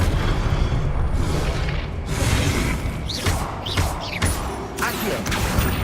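Expelliarmus and other spell impacts in Hogwarts Legacy land as heavy booming thuds and crackling magical bursts. They repeat over a dense, loud background of combat noise, with a brief shout over it.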